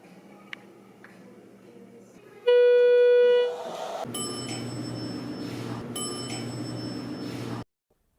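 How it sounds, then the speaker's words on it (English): A mechanical elevator bell at Brea Mall gives one loud, ringing ding that fades within a second, followed by a steady cab hum and fainter chime tones. "It's totally time for more mechanical bell sounds."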